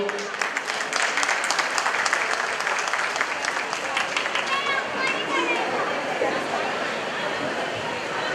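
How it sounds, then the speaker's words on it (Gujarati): An audience at an event applauds loudly for several seconds, dense clapping that thins toward the end while voices and chatter rise underneath. "આ તાળીઓ તમે સ્ટેજ માટે વગાડી"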